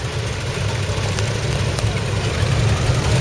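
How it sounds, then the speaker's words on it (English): A 2,200cc straight petrol engine, on an old Fordson at an autumn country show in Worcestershire, idles steadily close by with a low, even throb that holds without a break. "Yes, it's got a nice throb to it. Lovely note to that engine."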